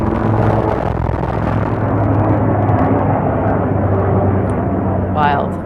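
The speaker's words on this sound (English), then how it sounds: "There always seems to be some sort of military plane or whatever that sound is coming right about now." A military plane passes overhead in Los Angeles, a loud, steady droning roar that fills the whole stretch without fading, with a brief high chirp near the end.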